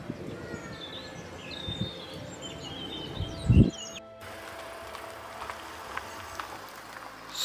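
Small birds such as chaffinches, bullfinches, coal tits and blue tits call at a feeding spot in a nature reserve, faint scattered chirps and thin tweets over quiet outdoor ambience with a brief rustle.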